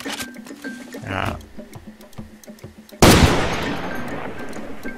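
Gunfire in Far Cry 2: a brief muffled burst early on, then a loud sudden blast at the three-second mark that rings out and decays, with someone talking intermittently through the scene.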